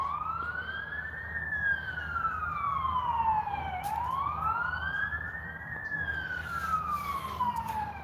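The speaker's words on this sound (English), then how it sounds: "it's been police sirens and shit all in the background" A police siren wails, rising and falling in slow sweeps, at a moderate distance over a steady rumble of traffic.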